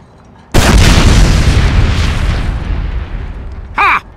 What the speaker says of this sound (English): Do a rocket jump, idiot!